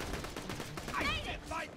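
Rapid gunfire in the video game Borderlands The Pre-Sequel, a quick run of close shots with whooshing, warbling game effects over it.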